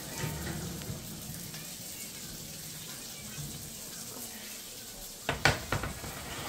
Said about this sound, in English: You hear some sizzling.